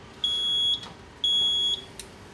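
A fire alarm control panel signals trouble with two long, steady, high-pitched electronic beeps, each lasting about half a second, separated by a short gap. Faint background hiss fills the spaces between them.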